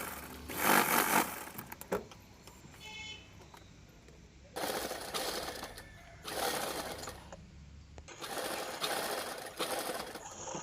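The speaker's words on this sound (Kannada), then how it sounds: "ಇವಾಗ ಲಂಗನೂ ಕೂಡ ಸ್ಟಿಚ್ ಮಾಡ್ಕೊತಾ ಇದ್ದೀನಿ." A sewing machine stitching a skirt (lehenga) from an old border saree runs in several loud bursts of rapid mechanical whirring, separated by short quiet pauses.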